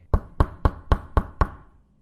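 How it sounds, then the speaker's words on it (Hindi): Six evenly spaced, firm knocks on a house door, close and clear, with nothing else around them. "घर का दरवाजा खटखटा देता है"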